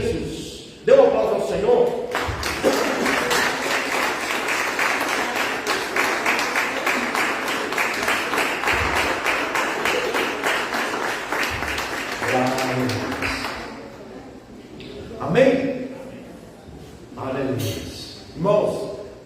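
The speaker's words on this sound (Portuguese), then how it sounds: "Dê um aplauso ao Senhor." A church congregation claps for several seconds in a sustained burst, followed by a voice speaking intermittently as the applause fades.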